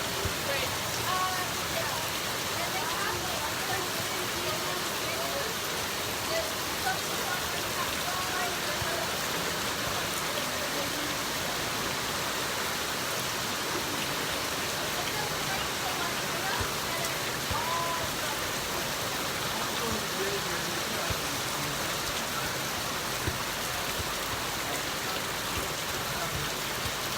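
Rain falling steadily in Ghana, a continuous broadband hiss of drops on surfaces that persists evenly throughout, with people talking over it at times.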